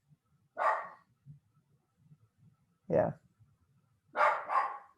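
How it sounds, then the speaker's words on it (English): A dog barks a few times, single and paired barks spaced apart, while a person briefly speaks nearby. "Sorry for the barking"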